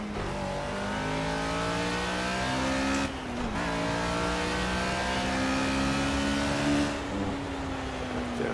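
Race car engine in Project CARS revving hard with throttle blips and gear changes, a continuous loud whine that dips briefly and climbs again, with faint tire squeal.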